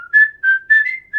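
Old Spice whistle phone alert: a bright, clean whistled melody of four short rising and falling notes, loud and close, with no talking.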